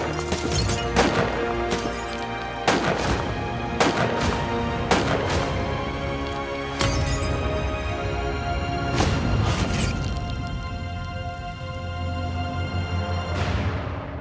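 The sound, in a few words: gunshots in a mob hit reenactment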